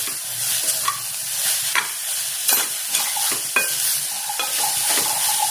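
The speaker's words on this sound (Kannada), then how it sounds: "ಚೆನ್ನಾಗಿ ಇದು ಒಂದು 5 ನಿಮಿಷ ಫ್ರೈ ಮಾಡ್ಕೊತೀನಿ" Grated carrot sizzles in ghee in a pan, with a steady close frying hiss and a spoon scraping and clinking as it is stirred.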